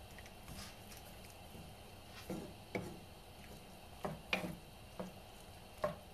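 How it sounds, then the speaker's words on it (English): Chicken sizzles faintly in a pan while a utensil stirs it, and a few scattered scrapes and taps rise out of the quiet, low hiss. "Now we'll just stir it."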